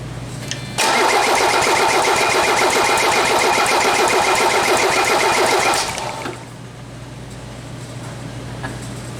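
A Mercedes 300SD diesel engine cranks on its starter in a steady, rapid whirring rhythm for about five seconds without catching, then stops, leaving a low hum.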